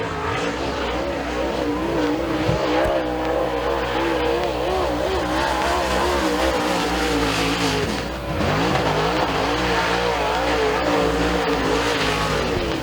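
Super late model race car lapping Thunder Mountain Speedway during Group A qualifying, engine roaring steadily and loud throughout with pitch sweeping as it comes through the turns, a brief dip near the middle before the roar resumes.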